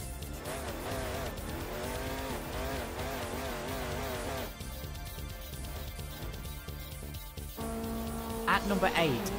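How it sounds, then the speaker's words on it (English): A distressed Mustang race car roars around a fantasy circuit in the Assetto Corsa racing sim, its engine revving up and down through gear changes with some tire squeal, while someone talks over it. "I'm driving this really distressed Mustang in this race."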